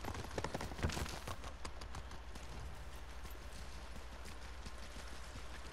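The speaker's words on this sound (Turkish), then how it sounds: "Valla at." Horse hooves clip-clopping at a steady running pace in the samurai video game Ghost of Tsushima, a continuous rhythmic patter of close, fairly loud hoofbeats with no talking.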